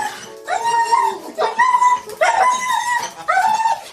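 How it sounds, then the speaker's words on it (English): Close by, a dog reunited with its owner after months apart lets out four drawn-out, wavering howls mixed with whimpering yips, with short pauses between. "this dog makes a very odd series of sounds"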